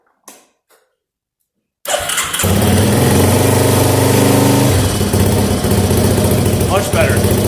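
A Yamaha Warrior ATV, fitted with a new starter and battery, cranks briefly and fires up, settling into a loud, close, steady idle. A few faint sounds come before it, with speech likely.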